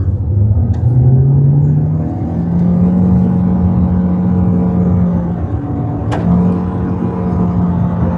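A Hyundai i20 1.2 Sportz hatchback accelerating hard from a standstill in sport mode, the engine note rising steadily and holding a loud, even drone from inside the cabin.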